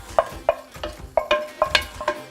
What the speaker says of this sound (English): now we'll just stir that all up and you can heat the rice through